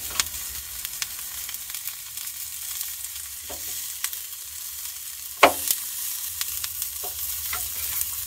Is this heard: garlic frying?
yes